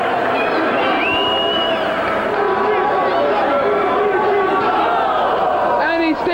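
A professional wrestling crowd at a CZW hardcore event reacts to a staple gun spot, a dense roar of chatter, shouts and cheering that swells throughout, with loud voices on top.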